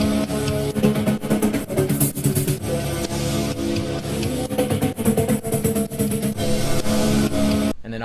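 A dense EDM bass one-shot plays continuously, loud and full, switching back and forth between the dry sample and a rhythmic gated effect, then cuts off abruptly near the end.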